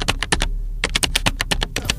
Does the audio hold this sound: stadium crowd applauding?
no